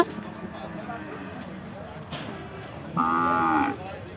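Cattle low in a noisy cattle market in Chougachha, Jashore, amid chatter, and near the end one cow gives a loud, long moo close by.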